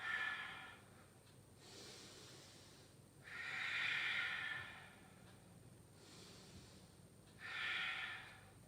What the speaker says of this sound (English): 2 more really big, steady breaths in your humble warrior